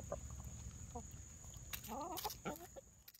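Chickens cluck in short, close bursts over a low rumble of background noise, a few soft calls followed by a livelier run of clucking near the end.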